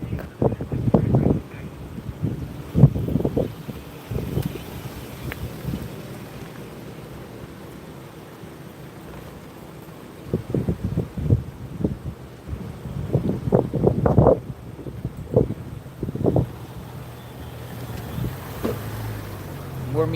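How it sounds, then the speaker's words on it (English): Gusty wind buffets a microphone outdoors at a Minneapolis protest gathering. It comes as uneven bursts of low rumble, loud at times and easing off in quieter stretches. "It's starting to get a little breezy out here."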